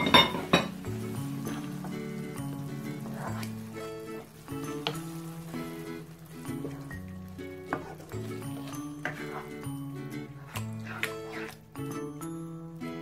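A pan of meat has pasta sauce stirred through it, and a utensil clinks and scrapes against the pan again and again in an uneven rhythm, with a soft sizzle underneath.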